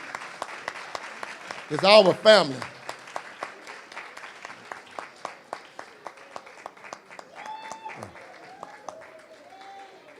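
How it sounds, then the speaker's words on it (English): Scattered applause for a family at a school Black History program, individual claps ringing out in a loose rhythm around an excited voice and an announcer talking. "let's give them a big round of applause"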